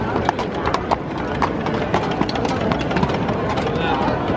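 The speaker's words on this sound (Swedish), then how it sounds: "kolla här har vi ju en häst och vagn" A horse pulling a carriage along a street in Prague clip-clops in a steady, close hoof rhythm over a busy outdoor crowd murmur, with people talking nearby.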